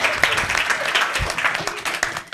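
Audience applause for two finalists at an English-language scholarship event in Mali, a moderately loud, steady patter of many hands clapping close by throughout.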